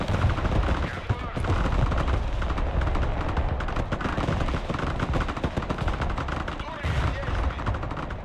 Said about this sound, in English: I'm getting him with the anti-air.